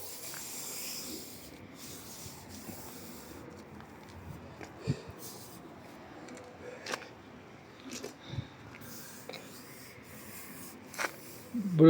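Quiet, steady scraping and rubbing of sandpaper against a car body, continuous with a few sharper knocks, close by and low in volume.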